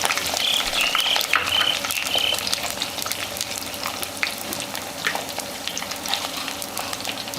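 Shallots sizzle and crackle steadily in a hot pan of oil, a continuous frying hiss with occasional stirring sounds, close up and without talk.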